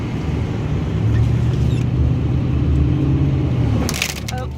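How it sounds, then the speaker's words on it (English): A salt truck rumbles past through a snowstorm, its steady low engine drone and road noise swelling and holding close for several seconds, then fading as a brief scraping rattle trails off. "that's called a salt truck"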